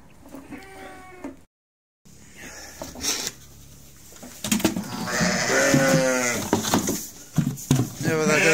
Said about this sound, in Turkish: Bir saat sonra koyunlarımızı da bakarız arkadaşlar